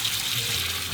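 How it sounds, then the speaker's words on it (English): Cold water gushes steadily from a kitchen tap into a bowl, a close, continuous hiss with no pauses. "So I'm gonna fill this with ice cold water."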